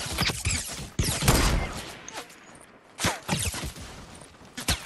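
Gunfire in the video game Fortnite, a burst of sharp shots near the start followed by a dense rattling fusillade, then scattered single shots and further bursts later, loud and close without talk.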